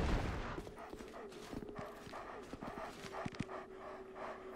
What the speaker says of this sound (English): bunch of dogs, okay.